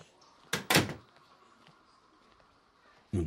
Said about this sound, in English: Let me get the door for you.